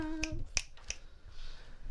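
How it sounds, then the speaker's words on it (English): Three crisp finger snaps, evenly spaced and close, given for a guest on a podcast in slam-poetry style, with a brief hum of a voice at the start and quiet room tone after. "Snaps for Jill"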